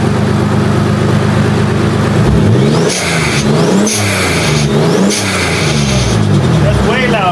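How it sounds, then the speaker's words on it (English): A 1994 Toyota Supra Turbo with an HKS blow-off valve idles loudly, then revs sharply three times in quick succession, each rev rising and falling, close by with a low steady rumble underneath. "Let's go ahead and give it a couple revs."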